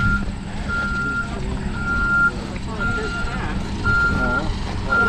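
A truck idling outdoors, its low engine hum steady underneath while a reversing beeper sounds repeatedly in regular pulses; a voice talks quietly over it.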